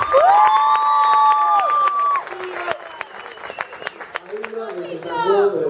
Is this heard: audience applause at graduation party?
yes